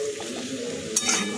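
Chicken pieces fry in hot oil in a pan, a close, steady sizzle with a brief clink of a utensil near the end, no talking.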